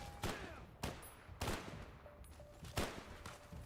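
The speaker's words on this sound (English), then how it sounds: "Oh, wait, Uma shot him back" Several sharp gunshots crack out in the Fallout video game, spaced about half a second to a second apart, with faint game ambience between the shots.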